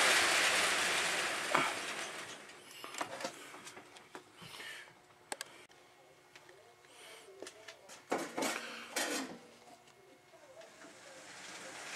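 A small HO scale model train clicks and rattles along its layout track, faint and steady, with occasional sharper clacks and brief mechanical whirs.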